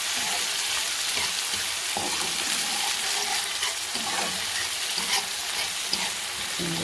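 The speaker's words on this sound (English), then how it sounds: "I'll be sauteing these guys, and then I'll be adding my saltfish." Ackee and saltfish ingredients sauteing in a pan, a steady close sizzle and crackle with occasional stirring scrapes throughout, no talk.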